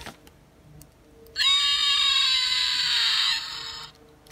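An electronic Velociraptor toy from the Jurassic Park Dinosaurs Series 1 line gives a loud, shrill, screeching roar that holds steady for about two and a half seconds, then cuts off, with quiet room sound before and after.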